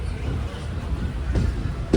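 Rumble and rattle of the moving Murdeshwar Express passenger train, a steady low rolling roar from inside the coach with faint rhythmic clatter and a brief louder thump near the end.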